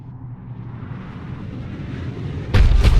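Heavy cannon fire in Mass Effect Legendary Edition, a Cerberus cannon firing: a low rumbling build of ambient noise gives way to a loud, sudden broadband blast near the end, booming and close with no talk.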